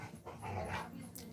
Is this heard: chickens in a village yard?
no